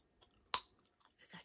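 Close ASMR chewing of Starbucks gum, with one sharp wet snap followed by softer, quieter mouth and chewing sounds in a short quiet moment.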